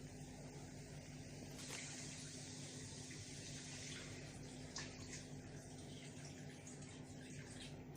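Water runs steadily into a pot of pork being readied for boiling, a continuous faucet-like pouring and splashing that holds at an even level for the whole stretch, with no talking.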